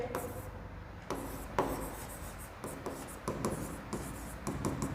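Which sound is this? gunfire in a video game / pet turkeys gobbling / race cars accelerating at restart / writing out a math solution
writing out a math solution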